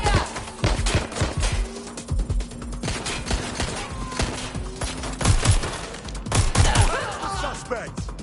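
Dense, rapid gunfire rattles almost without pause in the video game Watch Dogs Legion, loud and close, with overlapping bursts and impacts.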